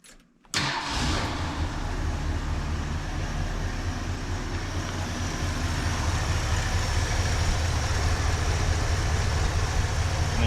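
A 1971 Ford LTD engine with a new carburetor cranks and catches, then settles into a steady, even idle that runs on continuously, close by with no talking.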